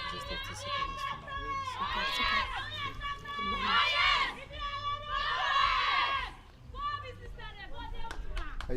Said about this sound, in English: You can hear the cheer from the outside, encouraging the last two Sierra Leone batsmen